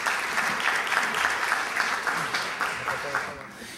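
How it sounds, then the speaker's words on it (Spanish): Sustained audience applause at a municipal program event in Miraflores, a steady dense clatter of many hands clapping fairly close, with some voices mixed in, tapering slightly at the end. "Lo recibimos con el aplauso de ustedes."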